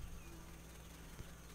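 A bee in the survival video game Grounded gives a faint, steady insect buzz under a constant low hum, thin and distant, with no talk.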